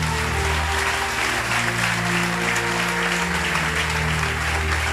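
A church congregation applauds and cheers for Jesus during a sermon, a loud, dense, continuous wash of clapping from a large crowd, sustained for several seconds with steady tonal music beneath it.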